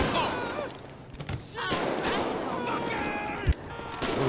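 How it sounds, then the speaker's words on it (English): Gunfire in GTA 5 with hood life mods, scattered distant shots and thuds over busy game ambience, with a sharp bang near the end while people talk. "Who the fuck shooting at him over there?"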